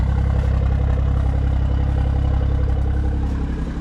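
A BMW M340i engine runs at a steady idle close by, a loud, continuous low rumble with a faint clatter and no pauses.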